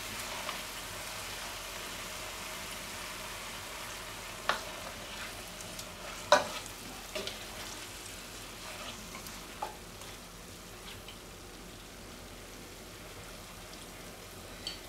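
Beef and vegetables in oriental style sizzle softly in a pan after half a cup of broth with cornstarch goes in, a faint steady bubbling hiss broken by a few sharp utensil clinks.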